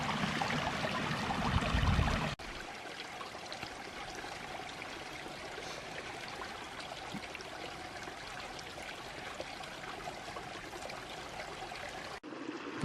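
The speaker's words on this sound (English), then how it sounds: "The water is moving now out of that little spring. It's a real pretty little spot here. Small cascades." A small spring-fed stream with little cascades runs between steep, mossy, fern-covered banks in an Alabama national forest, a steady near trickle and rush that shifts abruptly in tone partway through and continues unbroken.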